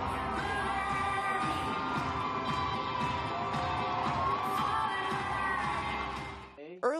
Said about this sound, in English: Liberal leader Justin Trudeau paid a visit to the northwestern corner of the Greater Toronto Area to enthusiastic applause.